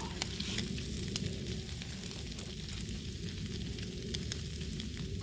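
Bacon sizzles on a Blackstone flat-top griddle, a steady close crackling hiss with scattered pops and spits throughout, moderately quiet.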